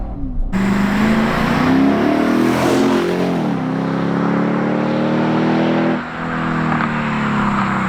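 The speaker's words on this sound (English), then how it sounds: "These tend to sound pretty good stock from an exhaust standpoint, but to me, they needed to be a little bit louder." A 2010 Lexus IS-F engine revving hard through its exhaust, a loud rising roar that climbs, drops and climbs again close by.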